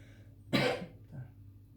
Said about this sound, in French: Je m'excuse pour la toux